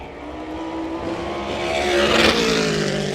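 A SMART Modified Tour race car laps Caraway Speedway during qualifying, its engine note loud and steady as it swells on approach, peaking near the end of the lap through turns three and four, with no talk over it.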